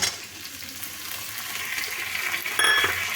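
Soaked chickpeas stirred into a hot frying pan with other ingredients, giving a continuous close sizzle with scraping stir sounds and a brief metallic clink near the end, no talk.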